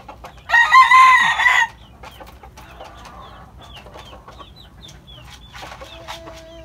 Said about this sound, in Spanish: Dándole comida a su pollito, miren.